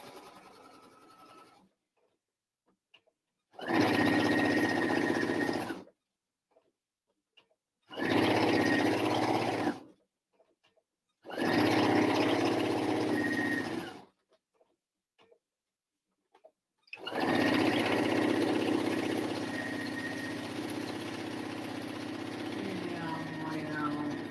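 Domestic sewing machine stitching fabric for an elastic picnic casserole cover, running in four steady whirring bursts separated by pauses, the last run long and continuous, close and loud with no talk.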